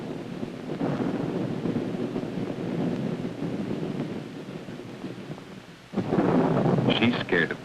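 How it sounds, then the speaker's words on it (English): Thunder rolls through a storm at night, a long low rumble with wind and rain hiss, then a sharper, louder crack near the end. "Thunder."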